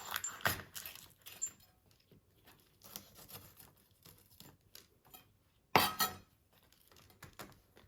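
Kitchen knife chopping deseeded chillies into small pieces for Sichuan chopped chilli paste, a run of sharp taps and clinks on a board with a louder burst of cuts near the middle, no talking.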